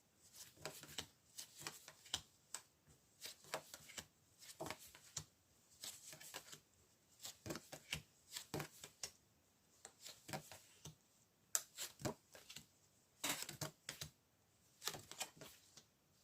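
Tarot-style cards being shuffled for a reading, riffling in quiet close bursts of a second or so, repeated about ten times with short pauses between them.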